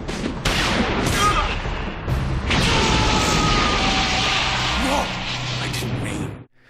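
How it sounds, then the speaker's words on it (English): Gunshots and booming impacts from a Batman animated episode ring out in a dense loud barrage, with voices heard through the action. "and then Deadman fires the gun"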